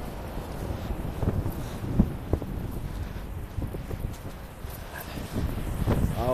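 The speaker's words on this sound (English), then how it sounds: "But it's really windy, man." Steady low rumbling wind buffeting a microphone, continuous throughout with a few brief knocks, loud and close.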